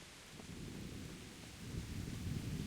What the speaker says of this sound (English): I don't want to be in the rain, man.